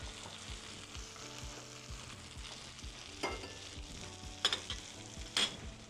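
Steak sizzles in browning butter in a Hestan NanoBond pan, a steady soft frying crackle with a few sharper spatters and pops near the end, close and fairly quiet.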